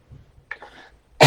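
A short throaty cough, followed a moment later by a louder, sharper burst.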